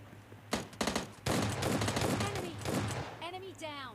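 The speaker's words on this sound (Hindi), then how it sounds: "तो सामने से मुझे शॉट्स पड़ते हैं" Gunfire in PUBG Mobile Lite rattles out in rapid bursts, a loud fusillade lasting a couple of seconds with softer echoing shots after, while a voice speaks over the game.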